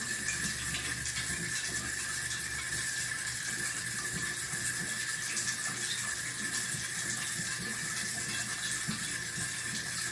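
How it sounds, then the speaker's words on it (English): Hands and wrists are washed under a running tap, with a steady, close stream of water splashing continuously and no other sounds. "we will now soak our wrist. Okay, only until wrist. Wash it."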